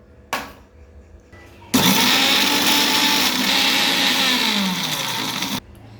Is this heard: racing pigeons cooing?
no